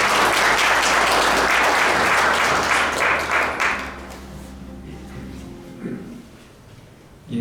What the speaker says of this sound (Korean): 박창모 전 총장님께 다시 한번 큰 박수 부탁드리겠습니다